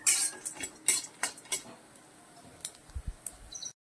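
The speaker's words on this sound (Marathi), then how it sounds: "पहा अगदी फास्ट मध्ये भाजून घ्यायचं आहे." Dry spices for kala masala, including dried ginger and turmeric root, roasting in a pan over low heat, heard as light close scraping and clinking of a spoon stirring in irregular bursts.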